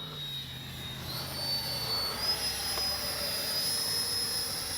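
An E-flite 64mm Viper RC jet flying overhead, its ducted-fan engine a steady high whine with a faint low rumble, fairly quiet and distant, heard alone with no talk.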